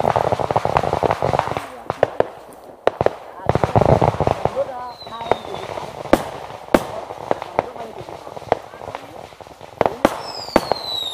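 Strings of firecrackers set off for Lunar New Year in a village, sharp cracks and bangs going off in quick irregular bursts with whistling rockets, while people talk nearby.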